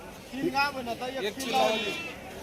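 Goats bleating in a few wavering calls close by at a livestock market, overlapping with people talking nearby.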